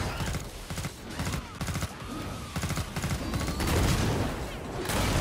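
Rapid gunfire in the shooter game Killing Floor 2, aimed at monsters, with regular bursts of shots in quick rhythmic volleys against a busy game background, moderately loud.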